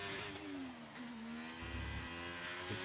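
A Ferrari Formula 1 car engine in the F1 23 game at Zandvoort whines steadily with harmonic tones sliding down then holding, a thin, slightly strained synthetic-sounding drone with a low rumble near the end.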